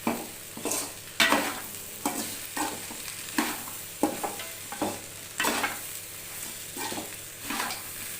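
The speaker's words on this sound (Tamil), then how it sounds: "இன்னும் கொஞ்சம் நேரம் அப்படியே வதங்கட்டும்" Onions sautéing in a pan for okra fried rice, stirred in repeated scraping strokes roughly every second over a steady low sizzle, close and clear with no talking.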